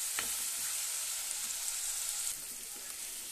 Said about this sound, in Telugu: ఇప్పుడు ఆయిల్లో ఇలా వేసుకొని బాగా వేగేదాకా కలిపించుకుంటూ ఉందాం